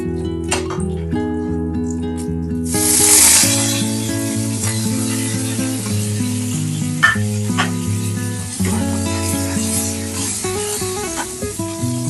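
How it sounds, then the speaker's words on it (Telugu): Mustard and other tempering seeds, four or five dried red chillies and curry leaves dropped into a little hot oil in a pan, bursting into a loud sizzle with crackling and popping, continuing steadily beneath a held musical tone. "పోపుని ఇందులో వేసేసుకుంటున్నా"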